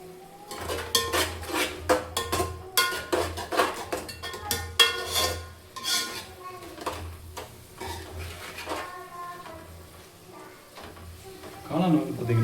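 A spoon stirs mushroom gravy in a cooking pan, with repeated scraping and clinking against the metal in uneven bursts that thin out toward the end.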